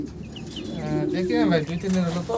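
Fancy pigeons, a male and female pair with the hen sitting on eggs, cooing in a loft with low, throaty, rolling calls close by, repeated over a couple of seconds and mixed with someone talking nearby.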